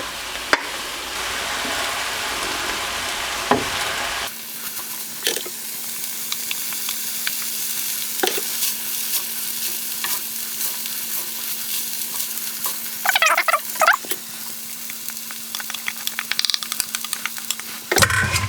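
Rice stirred into a pan of frying meat and vegetables sizzles steadily, with intermittent scraping and stirring strokes close by and a brief louder burst of spatter midway.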